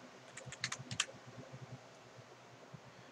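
Someone types numbers on a computer keyboard: a quick burst of light, crisp key clicks close by, then a few sparser taps against a faint background hiss.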